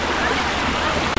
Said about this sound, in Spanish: Está fuerte ahí el río.